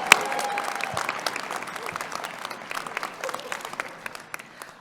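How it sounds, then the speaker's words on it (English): A round of applause from the audience at a university convocation ceremony, dense sustained clapping that starts with a sharp burst and gradually thins out. "Let's give a big round of applause to our Vice Dean, Charla Griffey-Brown."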